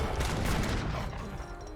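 Great bombard cannons firing in Age of Empires 3, a dense, continuous rumble of heavy blasts and crackling gunfire that stays loud throughout with no pause.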